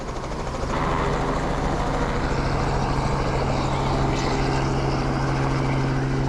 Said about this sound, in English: There's a helicopter about to take off